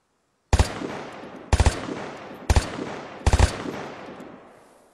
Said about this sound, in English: Machine gun is awful.